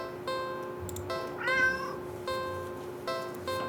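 A cat in the video game Do Not Take This Cat Home lets out a single close, clear meow midway, set against a steady tonal game soundtrack with light recurring chimes.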